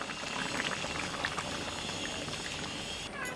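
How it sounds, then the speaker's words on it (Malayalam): Thick coconut milk is poured into a simmering piranha fish mappas curry. A steady, dense bubbling and boiling continues close up without a break, with no voices. "ഇതിലേക്ക് നമ്മുടെ തലപ്പാൽ ഒഴിച്ചു കൊടുക്കാം"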